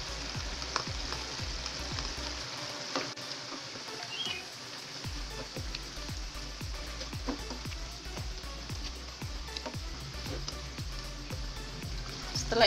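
Petai beans tossed into shrimp sambal frying in a pan, giving a steady close sizzle with scraping stirs throughout and a brief quieter dip partway through before the bubbling returns.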